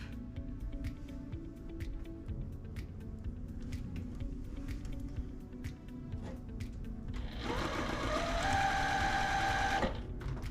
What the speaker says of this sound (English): I will chain piece and just sew all of them at the same time.